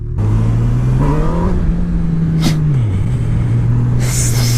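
A 2018 Honda CB1000R motorcycle engine pulls steadily in first gear, its loud, close exhaust note rising in pitch, dipping briefly and then climbing again as the throttle is rolled on.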